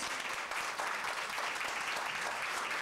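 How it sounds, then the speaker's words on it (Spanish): Guests at a wedding reception applaud steadily after a toast, a dense, even wash of clapping that fills the whole moment without pause. "Un fuerte aplauso, muchas gracias."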